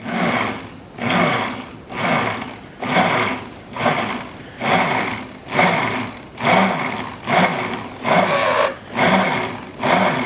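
Immersion blender pulsing while whipping up homemade mayonnaise, about nine even bursts of motor whir rising and falling in a steady rhythm, loud and close with no talk.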